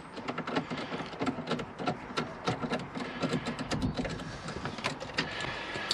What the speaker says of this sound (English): we can see all four screws holding the head unit in place. So all we need to do is pull them out.